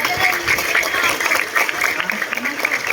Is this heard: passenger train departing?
no